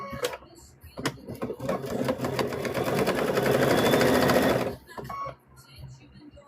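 A sewing machine stitches a quilt in a rapid mechanical chatter that builds to a steady run for a couple of seconds, then stops, with a few short starts before it and a quieter room after.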